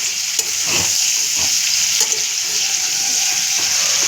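Close, steady sizzling of chicken frying in oil for Bengali chicken fry, with a few utensil taps and stirring scrapes over the constant hiss.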